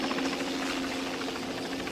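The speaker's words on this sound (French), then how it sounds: "C'est sans doute votre hélicoptère, monsieur." A helicopter drones with a steady rotor thrum and engine whine, moderately loud and continuous, with no voices over it.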